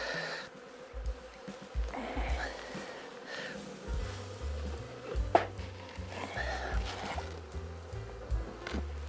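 Honey bees drone steadily around an open hive box during queen rearing work, a dense continuous buzz with individual bees passing close by, mixed with low handling noises and a brief knock.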